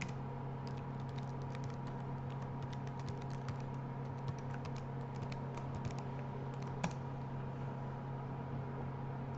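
Login keystrokes tapped on a computer keyboard come as a run of light, irregular clicks over a steady electrical hum, fairly close and quiet.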